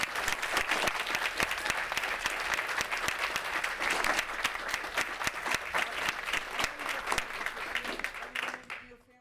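Sustained applause from an audience at a town council meeting, dense steady clapping filling the room and fading out at the end.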